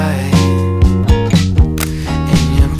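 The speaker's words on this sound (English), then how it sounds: "F3's got a great sounding shutter." A Nikon F3/T film camera shutter fires several times in a loose rhythm, sharp close clicks over steady background music.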